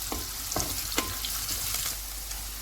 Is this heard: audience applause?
no